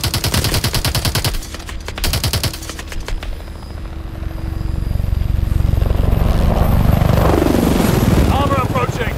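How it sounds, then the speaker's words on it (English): Rotor noise of a helicopter in Call of Duty: Advanced Warfare rises over a tank battle, with bursts of machine-gun fire and radio chatter early on and the thudding blades growing louder toward the end. "I have a helo heading to a new LZ."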